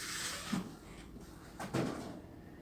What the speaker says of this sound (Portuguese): Esse barulho, gente, da porta é porque o vento tá ventando.